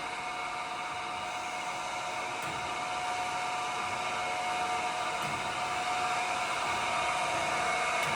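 Chevalier FSG-3A1224H automatic surface grinder machining a small part, a steady loud whirring hiss from the running spindle and hydraulics with faint periodic ticks, no voices.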